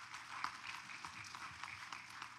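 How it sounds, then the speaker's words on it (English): A church congregation claps together in a steady round of applause, a dense continuous patter of many hands that stays even from start to finish with no voices over it. "Give yourselves a round of applause to get them to camp."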